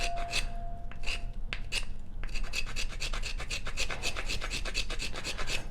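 Back of a knife spine scraping along a stick of resinous fatwood, giving a steady run of close, rasping strokes in quick rhythm, with a few separate scrapes at first and then continuous shaving, no talk.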